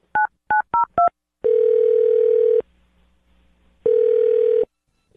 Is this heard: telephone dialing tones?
yes